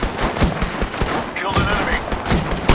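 Rapid bursts of automatic gunfire from the video game Apex Legends crackle loudly and almost without pause through a close-range firefight, punctuated by sharp single shots and overlapping volleys.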